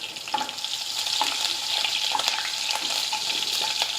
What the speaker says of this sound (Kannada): ಇವು ಹಸಿಮೆಣ್ಸಿಕಾಯಿ ಒಂದು ಸ್ವಲ್ಪ ಚಲೋ ಹೊತ್ತಿಗೆ ಫ್ರೈ ಆಗ್ಬೇಕು ರೀ